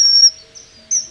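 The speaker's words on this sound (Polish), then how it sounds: "Zimorodek to wyjątkowo piękny ptak" Kingfisher call: two short, high, thin piercing whistles close together, clear and fairly loud, with no talking.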